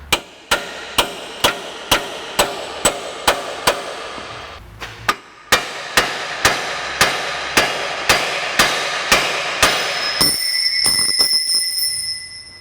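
Steel chisel struck repeatedly by a hammer against a tie rod end on a 2004 Ford Explorer, about twenty sharp, evenly spaced ringing blows, close and loud, ending with a brief metallic high ring.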